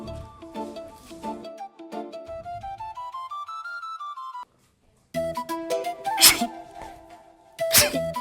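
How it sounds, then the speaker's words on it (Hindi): A sharp sneeze bursts out during a Haryanvi comedy sketch, cutting over a bright background tune, and a second forceful burst follows a moment later. "ये छींक दिया, कर दिया साउंड खराब"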